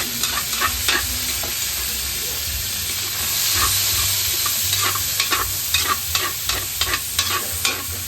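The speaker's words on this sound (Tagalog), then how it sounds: "So kailangan po talaga iprito muna yung taba." Pork fat frying in a pan for pancit, a loud, steady sizzle and hiss with repeated scraping and stirring clicks, no voices over it.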